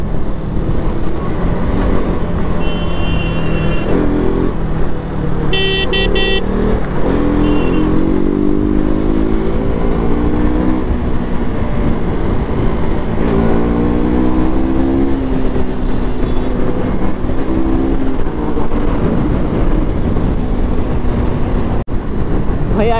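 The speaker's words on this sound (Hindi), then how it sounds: "आज क्यों इतना ज्यादा ट्रैफिक मिल रहा है भाई" Road traffic with cars and motorcycles on the way to Ladakh, heard from a moving motorcycle: a loud constant engine roar under rushing wind, with passing vehicles whose pitch rises and falls and a brief horn-like tone.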